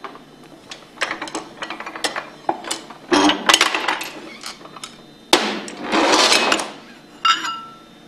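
Metal clanks, taps and knocks sound as the shaft and rotor assembly is worked out of a Hypro roller pump with a cradle and bolt, in irregular sharp hits and short scraping bursts.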